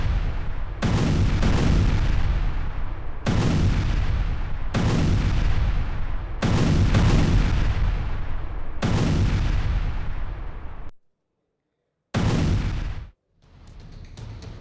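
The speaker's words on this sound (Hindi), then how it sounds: "उत्तरी हवरीलिव्का में भीषण बमबारी हुई है।" Heavy bombardment from a Russian air strike on northern Havrylivka, Ukraine, comes as a series of about eight loud, deep booming blasts at roughly one-and-a-half-second intervals. Each blast has a long rumbling tail, and the sequence ends with abrupt gaps.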